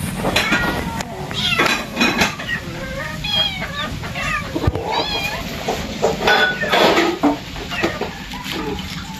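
A cat meows repeatedly in a home kitchen at mealtime. The cries are loud, rising and wavering, and come at irregular intervals over clattering and household noise, with some chicken-like clucks mixed in.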